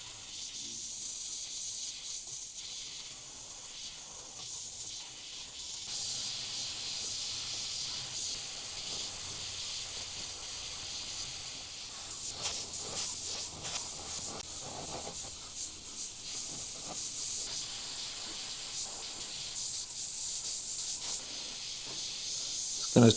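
An airbrush sprays yellow paint while painting a fiery tiger, giving a soft, steady, close hiss that continues for the whole stretch with slight swells and pauses as it is triggered.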